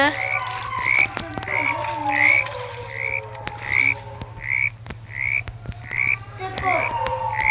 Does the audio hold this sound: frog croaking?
yes